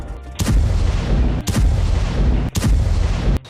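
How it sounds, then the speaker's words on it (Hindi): Artillery cannons fire shells in a war zone, three loud, heavy booms in close succession, each blast followed by a sustained rumbling roar with no pause between them. "तोपों से निकलता दनादन गोला बारूद"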